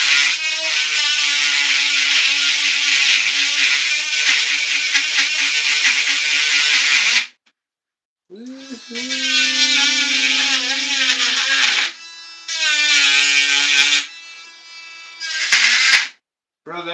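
A Dremel rotary tool grinding on a 1/10 scale RC buggy, a loud, close high whine that runs steadily, then cuts out and restarts in several shorter bursts with pitch dips under load.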